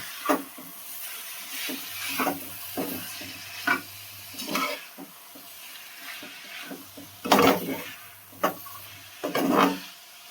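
Rajma (kidney beans) being stirred into a masala in a pan, with repeated scraping strokes of a spoon and bursts of sizzle at an irregular rhythm, close and moderately loud.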